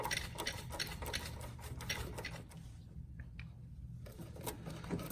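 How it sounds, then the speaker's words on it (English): A socket wrench with a 10 mm socket loosens a hose clamp on a Fiat 124 Spider intercooler, giving a rapid ratcheting clicks that run for a couple of seconds, pause, then resume faintly, close and fairly quiet. "Now this is going to use a 10 millimeter socket."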